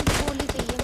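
Rapid automatic gunfire in a shooter game, a fast even burst of sharp close shots repeating about ten times a second.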